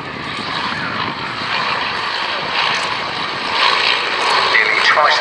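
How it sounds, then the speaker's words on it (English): Vintage Tiger Moth and Avro Tutor biplanes fly at an air show, their propeller engines droning steadily in the distance and swelling slightly louder toward the end. "And then on the inside of the turn, a beautiful Avro Tutor."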